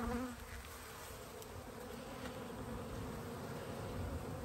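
Honeybees buzz steadily around an open hive during a spring colony split, a dense, continuous droning hum close by with no voices.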